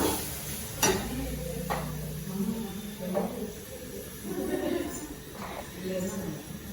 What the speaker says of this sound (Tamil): கருவேப்பிலை கொத்தமல்லி ரெண்டுமே போட்டிருக்கேன் இதையும் வறுக்கணும்